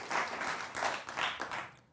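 Studio audience applause on a televised political debate show, a short burst of clapping in several swells, moderately loud and without talk.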